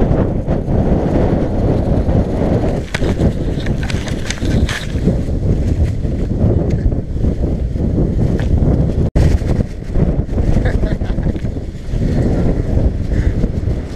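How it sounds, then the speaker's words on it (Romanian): Steady wind blowing hard across an outdoor microphone, a loud continuous rumbling buffet with gusty surges and a brief dropout near the middle. "Cam bate vântul."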